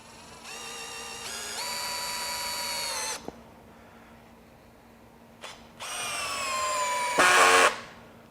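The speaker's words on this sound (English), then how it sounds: "we'll go all the way up to 18 here, and we'll drive a 4 inch deck screw" A Greenworks 24V brushless drill driver, clutch set to 18, whines loudly as it drives a 4 inch deck screw, running in two bursts with a clutch clack and a short gap between, close and without speech.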